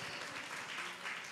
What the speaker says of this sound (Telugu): చప్పట్లు కొట్టాలిగా.